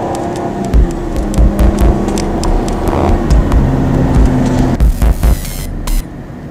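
Vehicle engine hum, steady and throbbing at close range, with repeated sharp clicks and a louder burst of noise near the end.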